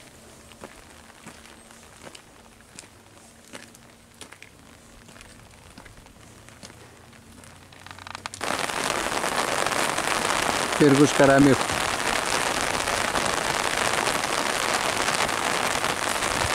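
Steady rain pours down outdoors in Farsala, Greece, in October, a loud dense hiss that starts abruptly halfway through after quieter ambience, with a brief spoken voice near the middle.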